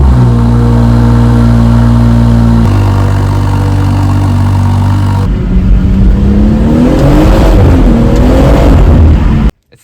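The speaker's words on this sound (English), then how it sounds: "having this M Performance exhaust system just means that the car sounds that much better" A BMW M140i fitted with an M Performance exhaust system, idling loudly up close and then revving, the engine note rising and falling in pitch through a couple of throttle blips before cutting off abruptly.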